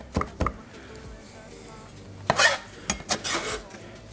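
A knife on a cutting board finely slivering a jalapeño, with scattered light taps and scraping strokes, a few sharper knocks bunched near the end, close and fairly quiet.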